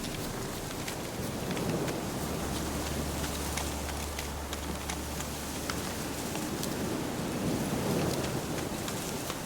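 Steady rain pours down in the video game The Witcher 3: Wild Hunt as a low roll of thunder rumbles through the middle. No one speaks.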